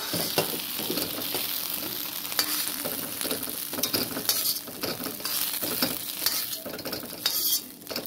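Okra (bhindi) fries in a pan, a close crackling sizzle overlaid by frequent stirring scrapes and light clinks of a metal spoon against the pan.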